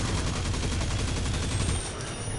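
Huckleberry submachine gun in Destiny 2 firing a sustained, rapid full-auto stream of shots, loud and continuous, with a brief tail at the end.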